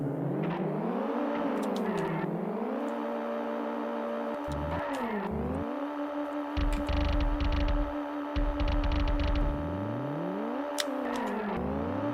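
A Micro Machines 2 RC car engine racing around a bathtub whines up and down in pitch as it accelerates and slows, with bursts of rougher buzzing in between.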